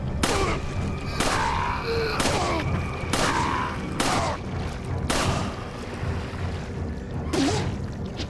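Gunshots in Resident Evil 4 on the Wii, fired as headshots: six or seven loud, sharp reports spaced about a second apart, each trailing into a short decay over game background noise.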